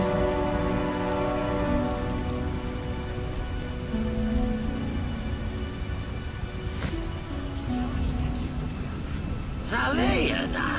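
Steady rain patters over a medieval village on the outskirts of Vizima in the video game The Witcher, a constant wash of falling water beneath townsfolk chatting.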